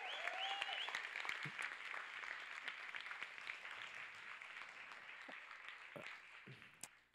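Sustained applause from a summit audience fills the space after a live performance, dense clapping that holds steady and then gradually fades out.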